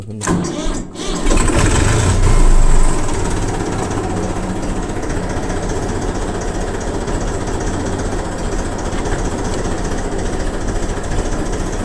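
A farm tractor engine starts with a sharp, loud burst, then settles into a steady, rough idle that rumbles on close by.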